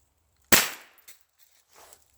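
A single .22 Long Rifle shot fired at a military-issue American padlock, a sharp close crack with a quick decaying tail, followed by faint small knocks and rustles.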